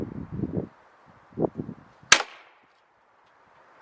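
A Webley Nemesis .177 CO2 air pistol fires a 10.5 grain pellet, one sharp close crack following a few soft handling noises, then quiet.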